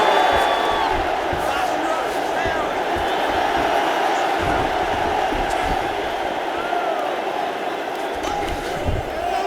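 An arena crowd at a UFC heavyweight fight rumbles steadily through the whole stretch, a dense murmur of many voices with occasional rising shouts. It stays at a moderate distance, with no single voice standing out.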